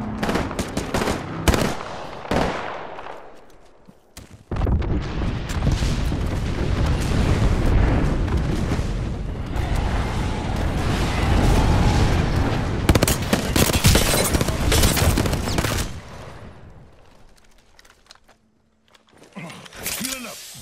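Airstrike explosions and rapid gunfire in Apex Legends, a dense sustained barrage of booms and automatic fire lasting most of the stretch, with brief quieter gaps at the start and near the end and a player's voice speaking over it.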